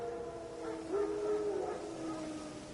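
Wild dogs howl somewhere in the distance, long wavering tones rising and falling and overlapping one another, fairly faint, with no talking.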